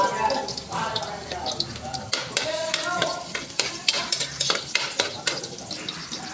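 Garlic sizzles and fries in a hot pan while a utensil stirs and scrapes it, giving a steady crackle broken by sharp clinks and scrapes. Close and fairly loud.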